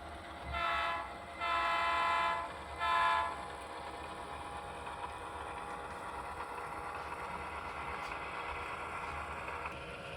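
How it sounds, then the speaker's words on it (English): Model train on the Tualatin Valley Railway layout rolling into an interchange yard, with three short horn blasts at the start followed by a steady, soft running rumble. "Nearing the end of its journey, the train rolls into the interchange yard and banks."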